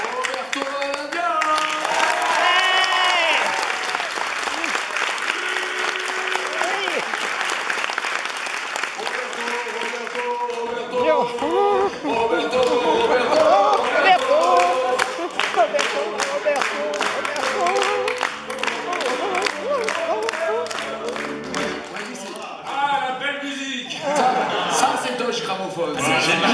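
Studio audience applause on a France Inter radio broadcast with a tenor as guest, a sustained wash of clapping that stays dense for a long stretch, with talk and chatter running alongside it.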